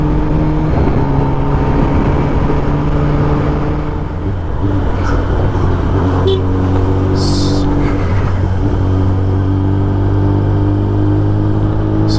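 Kawasaki ZX10R motorcycle cruising on a highway near Salem, a loud, steady engine drone with wind rush, the pitch dipping briefly mid-ride and then holding again, with no talking.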